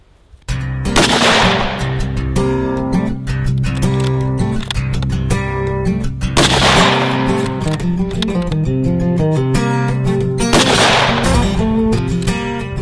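A Howa 1500 rifle firing .223 rounds at a range, with three loud sharp reports several seconds apart over a steady background of music.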